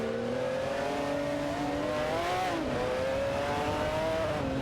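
Bugatti EB110LM and McLaren F1 GTR racing in a video game, their engines a continuous high whine that rises and dips in pitch as the cars chase each other, steady and fairly quiet throughout.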